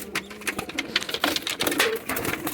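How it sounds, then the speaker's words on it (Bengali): Pigeons coo in soft, repeated low calls at close range, mixed with light rustling and fluttering, with no talking over them. "এই যে পায়রা আরো আছে ভিতরে"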